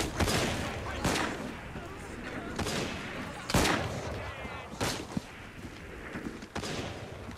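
Gunfire in the Assassin's Creed Syndicate game, with several loud, sharp shots in an irregular volley, one especially heavy blast near the middle and fainter reports between.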